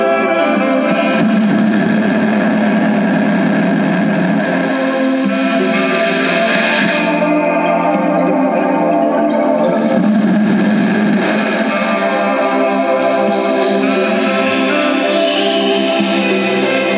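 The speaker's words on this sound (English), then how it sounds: "Second knob introduces all sorts of weird, echoey, white noisy-ish things." Circuit-bent Barbie Sing-a-Long karaoke cassette player with a knob-driven effect, producing a loud, continuous wash of echoey, warbling white-noise textures layered over distorted, tonal playback for the whole stretch, with no talking.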